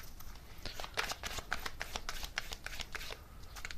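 A deck of tarot cards being shuffled by hand, close and crisp, with a quick series of riffling flutters and light slaps over a few seconds and no talking.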